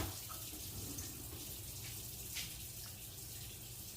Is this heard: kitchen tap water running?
yes